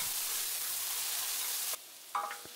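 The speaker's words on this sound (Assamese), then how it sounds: "এতিয়া ইয়াত পিঁয়াজখিনি এড কৰিম আৰু অলপ ট্ৰান্সপাৰেণ্ট হোৱালৈকে ভাজিম।" Onions frying in a pan over a medium gas flame while cooking boiled pork, a loud continuous sizzle that drops off abruptly, followed by a few scraping stirring sounds.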